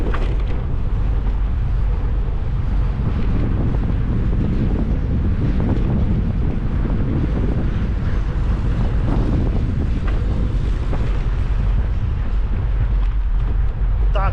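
Strong wind roars and buffets the microphone continuously on a city street in Poltava, Ukraine, a loud, unbroken rumble with faint voices lost in it.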